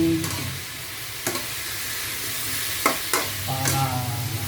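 Chicken tinola simmers in a cooking pot while a utensil stirs it, giving a steady sizzle and hiss with several sharp scrapes against the pot.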